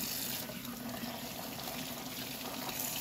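Tap water runs in a steady, even stream into a sink while soaked salt codfish is washed, with no voices.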